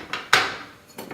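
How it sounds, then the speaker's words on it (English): Metal gas stove grills and burners lifted off a stove top, giving a few sharp metallic clanks, one louder knock ringing briefly before a softer final clink, close and alone. "Then we remove the actual burners,"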